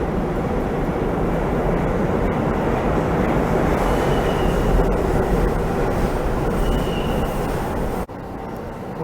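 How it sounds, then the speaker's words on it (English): A New York City N subway train rumbles loudly into City Hall station, a dense, steady roar with faint squeals of wheels and brakes, close and continuous. "We got an N train pulling in now."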